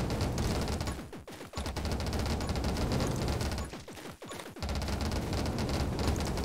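Rapid automatic gunfire rattles almost nonstop in a zombie-survival video game, dense bursts broken by two short pauses, loud and close with no speech.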